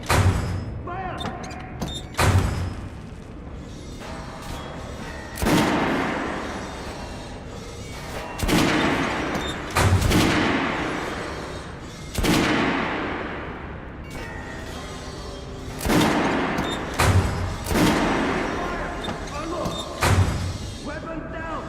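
Heavy gunfire from the video game Metro Redux: loud, booming shots with a long echoing decay, fired one at a time at irregular intervals of a few seconds over a steady background, with voices audible in between.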